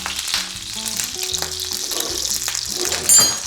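Salmon fillet frying skin-side down in a hot pan, giving a steady close sizzle and crackle with a few brief clinks of a utensil and a short louder burst near the end.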